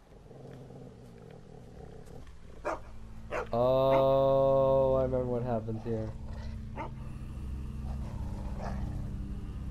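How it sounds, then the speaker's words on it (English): A dog in The Walking Dead video game gives a few loud, close barks and growls, layered under game dialogue and a person talking over the scene. "Barking"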